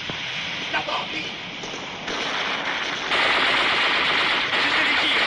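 Machine gun fire in an action film makes a dense, continuous hiss-like crackle of rapid shots that swells louder partway through, with voices faintly beneath.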